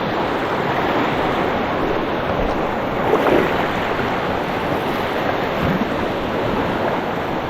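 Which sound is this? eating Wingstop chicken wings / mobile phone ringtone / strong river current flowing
strong river current flowing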